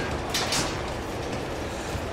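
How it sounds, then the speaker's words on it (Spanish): A moving train in the video game Uncharted 2 rumbles steadily with a broad, even rail noise and faint clatter, alone with no talk. "El tren se mueve muchísimo"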